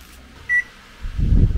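A 1,500-watt microwave oven runs at full power from a Bluetti AC300 power station through an extension cord. A short beep is followed by the low hum of the oven starting up, close and fairly loud.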